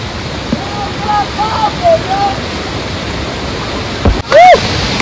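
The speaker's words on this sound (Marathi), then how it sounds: "या पाण्यात, या धबधब्यात तुम्ही हिम्मत करणार का?" A waterfall in Palghar roars during heavy rainfall, forming a loud, constant wash of water, with short voices and whistle-like calls heard over it.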